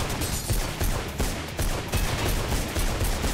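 Sustained automatic gunfire from the Mirror's Edge game, loud and close, with rapid shots running continuously and unbroken throughout.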